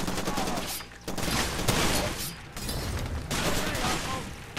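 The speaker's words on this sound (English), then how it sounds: "Where are they shooting at me from?" Gunfire in the video game Far Cry 2 rattles in dense automatic bursts, separated by a few short lulls, and stays fairly loud and continuous throughout.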